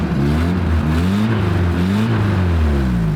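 An old, high-mileage four-cylinder truck engine with holes in its exhaust runs rough and loud up close, its pitch rising and falling as it revs in brief surges.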